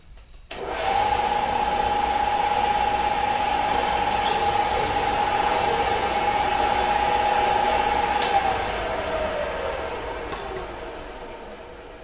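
A drill press with a brad point bit working into poplar gives a steady, loud motor whine after a sharp start; the whine holds evenly, then winds down and fades near the end.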